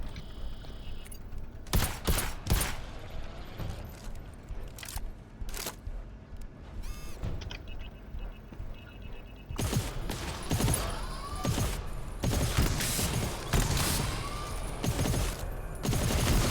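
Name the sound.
gunfire in the video game GTFO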